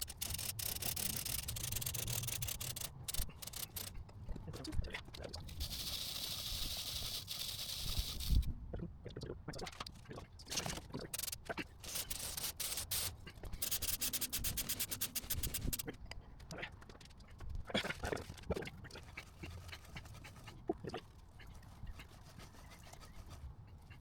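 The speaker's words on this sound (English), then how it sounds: "let's get this chain cleaned and adjusted" Steady scrubbing and rubbing of a brush on a 2025 Kawasaki Z900 SE motorcycle chain, continuous and close, with occasional clanks and breaks in the strokes.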